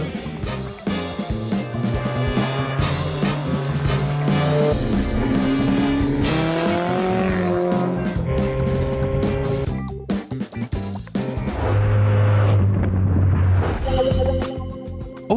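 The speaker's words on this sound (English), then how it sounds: "The recreated Black Widow takes to the asphalt of the handling course at Opel's Dudenhofen Test Center" The recreated Opel Black Widow racing car driving on the asphalt handling course at Opel's Dudenhofen Test Center, its engine loud and near, revving up and down through gear changes with a brief lull midway.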